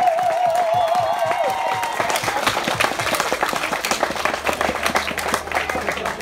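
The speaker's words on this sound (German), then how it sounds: "Nochmal bitte einen Applaus für die Jungs" An audience applauds a pair of young male performers at a live show in Böblingen, with steady dense clapping and some cheering throughout, and a voice briefly audible at the start.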